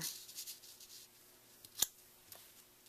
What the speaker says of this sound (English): So I'm going to go ahead and cut that in half.